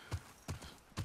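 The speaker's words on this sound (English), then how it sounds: "Horse." Horse hooves clip-clop in The Last of Us Part II: three distinct, evenly spaced footfalls, close and fairly loud, with no talking.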